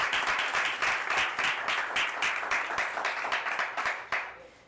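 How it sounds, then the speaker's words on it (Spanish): Congregation in a church clapping together in steady, dense applause, loud and close, continuing evenly before tapering off at the end. "le brindamos un aplauso a Cristo"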